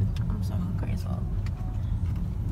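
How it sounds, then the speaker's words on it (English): Steady low engine and road rumble from inside a moving car, with people talking quietly over it. "for now, we're just riding in the car"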